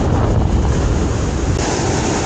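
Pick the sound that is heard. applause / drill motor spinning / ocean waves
ocean waves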